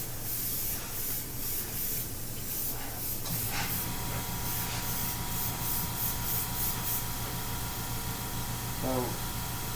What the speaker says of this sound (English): I'm just barely spraying this on here.